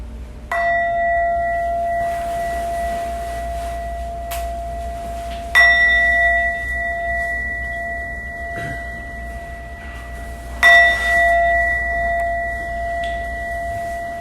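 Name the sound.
meditation bell ringing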